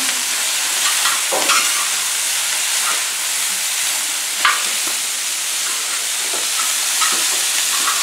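Beef fat melting and frying on a plow disc pan for arroz carreteiro, giving a loud, steady sizzle and hiss with occasional soft pops and stirring scrapes, close up with no talking.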